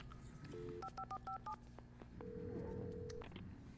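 A phone is dialed in Alan Wake Remastered: a quick run of short touch-tone beeps, then a longer steady tone, all quiet and clean.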